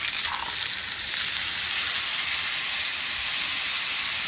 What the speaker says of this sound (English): Hear that sizzle is exactly what you want